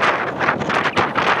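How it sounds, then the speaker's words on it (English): Strong wind of at least 20 mph buffets the microphone in continuous roaring gusts, swelling and easing over a short stretch with no other clear sounds. "it is extremely windy today"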